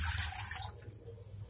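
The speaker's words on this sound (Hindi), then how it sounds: "यहाँ पे मैंने वेसल ले लिया है, ये एल्युमिनियम का वेसल है। और अब मैं इसमें पानी डाल दूंगी" Water poured into an aluminium cooking vessel, a close, bright splashing stream that is strongest at first and then thins out, heard alone in a quiet kitchen.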